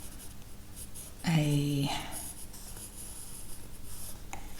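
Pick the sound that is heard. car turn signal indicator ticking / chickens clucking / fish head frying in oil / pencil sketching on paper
pencil sketching on paper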